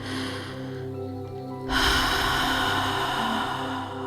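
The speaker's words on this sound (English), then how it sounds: "Now take a deep breath." A single deep breath drawn in during an EFT tapping session, a sudden loud, close inhalation rushing in after a quiet pause and holding steady to the end, with no talking.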